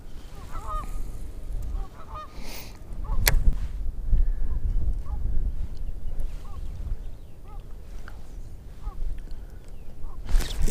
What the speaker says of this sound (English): that's geese over there fighting